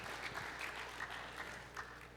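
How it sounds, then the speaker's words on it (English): A conference audience gives a round of applause for a panel, a soft, distant, even patter of many hands. "if we can have one more round of applause for David and all of the panelists"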